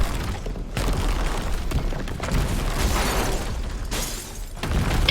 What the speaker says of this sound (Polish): Zaraz zbiorniki wybuchną.